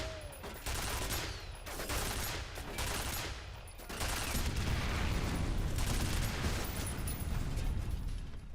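Heavy gunfire in the shooter F.E.A.R. comes in near-continuous automatic bursts, loud and close. Brief lulls break it early on before a sustained barrage fills the rest.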